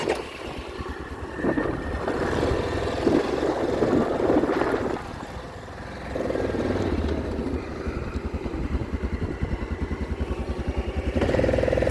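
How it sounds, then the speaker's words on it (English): A four-wheeler ATV rides a motocross track, its engine droning loud and close, rising and falling with throttle changes and a brief dip before revving again. "So I'll take you on the track on the four-wheeler"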